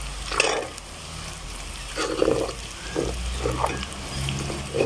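Chopped ginger and garlic sautéing in hot oil with mustard seeds and asafoetida for a chicken pickle: a continuous sizzle and crackle with intermittent scraping stirs of a spoon in the pan, close and without talk.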